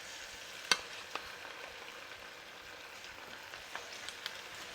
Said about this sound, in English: Look, it is sizzling.